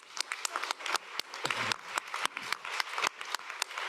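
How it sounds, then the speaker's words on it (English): Applause for Leticia at an open science monitoring event: scattered, fairly sparse claps from a small group, individual hand strikes distinct and irregular, moderately quiet. "she really deserves a round of applause from everybody"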